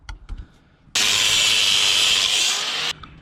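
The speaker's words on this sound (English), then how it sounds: "So we're gonna cut this bolt out." A power saw cuts through a broken pivot bolt on a Volkswagen IRS rear suspension, a loud, harsh, steady grinding whine lasting about two seconds, with faint clanks before and after.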